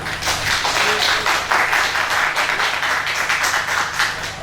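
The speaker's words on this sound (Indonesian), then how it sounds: "Mungkin mohon tepuk tangannya." An audience at an Indonesian panel discussion on hoaxes applauds steadily, a dense, even wash of clapping that stays loud and close for several seconds with faint voices underneath.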